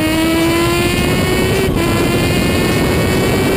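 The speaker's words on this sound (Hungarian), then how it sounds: "Hallgassuk csak a motor hangját a célegyenesben." A high-revving racing motorcycle engine screams steadily at close range on the finish straight, a loud, sustained whine holding a constant pitch with no talking.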